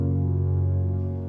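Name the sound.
piano in Ableton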